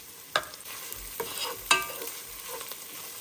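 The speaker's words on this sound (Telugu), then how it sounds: "ఈ పేస్ట్ అంతా బ్రౌనిష్ కలర్లోకి వచ్చే వరకు బాగా వేగనివ్వాలి" Curry paste for mutton curry frying in a pan, a steady sizzle broken by a few sharp stir scrapes, close and moderately loud with no talking.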